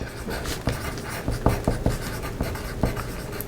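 Pen writing a label on a paper sewing pattern for a peplum top front piece, a close, quiet scratching with several short sharp strokes spread across the stretch.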